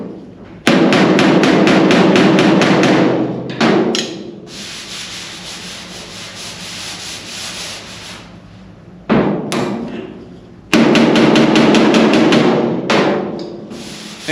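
Hammer blows working out a dent in metal, arriving as long loud bursts of rapid strikes separated by quieter scraping stretches, close and alone with no voices.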